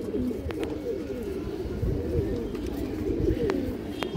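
Pigeons coo nearby in soft, low, throaty rolling calls that continue steadily, with a few faint chirps and clicks in the background.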